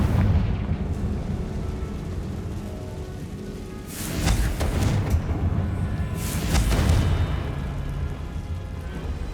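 Booming spell blasts from the Hogwarts Legacy video game, two heavy bursts a couple of seconds apart rising out of a dense, rumbling game soundscape, loud and close.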